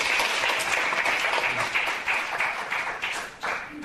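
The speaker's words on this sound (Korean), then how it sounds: "우리 용혜인 학생에게 박수 한번 더" Audience at an indoor presentation event applauding a student, a sustained wash of many hands clapping that gradually thins toward the end.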